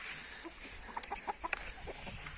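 Chickens cluck softly nearby, a few short rhythmic clucks rising over a quiet farmyard background.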